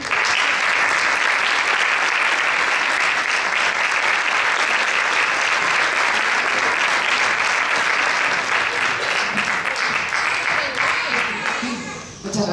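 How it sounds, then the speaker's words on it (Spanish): Loud, sustained audience applause at the 2017 Premios Concordia gala for the district board president, Carmen Seco, as she takes the stage, dense clapping over about twelve seconds that fades at the very end. "para quien pido, por favor, un aplauso"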